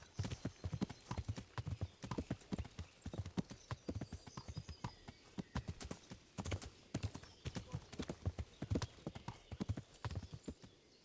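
Horse hooves in the Kingdom Come: Deliverance video game clip-clop in a steady, repeated rhythm throughout, close and clear, with an occasional faint neigh and no talking.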